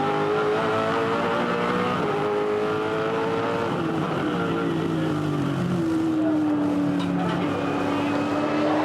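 V8 Supercars racing at Eastern Creek Raceway, Race 14 of the 2007 series, with loud, continuous engine roar whose pitch rises and falls as cars pass and shift gears.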